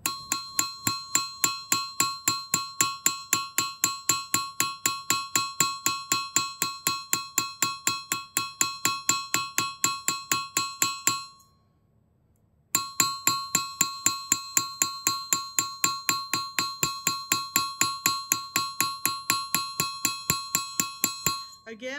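Steady, evenly spaced strikes of a cross peen hammer texturing a work-hardening metal sheet, each a bright ringing clang, close and alone, with one short break midway.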